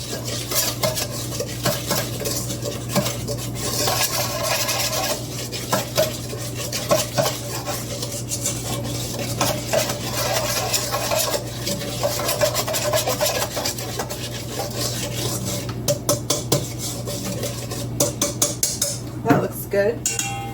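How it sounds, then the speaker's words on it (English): A small whisk works a melted butter mixture around a bowl, giving steady, fairly loud rhythmic scraping and clinking against the sides for the full stretch, with no talk over it. "Just going to take my little whisk here."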